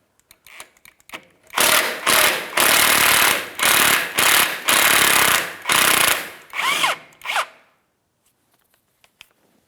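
Power tool zipping out the 10mm sway bar bracket bolts on a 2007-2014 GMC Sierra 2500 HD, loud close bursts of rattling hammering in several short runs with brief pauses between.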